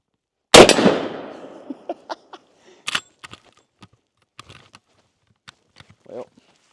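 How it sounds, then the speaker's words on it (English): A single loud gunshot from a Henry All Weather 45-70 lever-action rifle cracks up close and rings out in a long decaying echo, followed by scattered faint clicks and knocks of the action. "So let's go ahead and shoot it."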